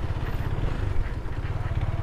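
A KTM Duke motorcycle engine rumbles close by while riding off-road through mud, a steady low throbbing that stays even throughout.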